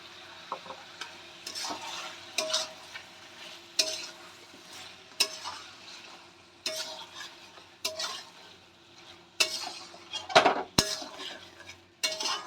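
Tomatoes and turmeric sauté over high gas flame in a pan for Pakistani chicken curry, with a soft sizzle under repeated sharp scraping strokes of a utensil against the pan at an irregular rhythm.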